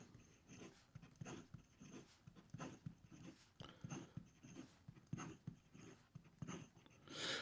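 A Gravitas Bifrost fountain pen nib scratches quickly across paper in rapid, uneven strokes, close and very quiet, each burst of writing separated by brief pauses.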